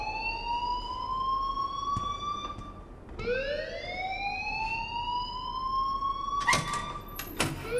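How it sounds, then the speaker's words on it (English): Alarm tone in the video game Life is Strange, rising and holding steady, sounding twice with a brief break near the middle, fairly loud and alone with a few sharp clicks toward the end. "please turn off that alarm"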